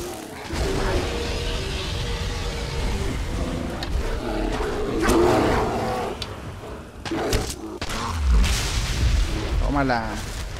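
Bear in Skyrim growling and roaring in a low, rumbling way, mixed with game combat noise and someone talking over it throughout.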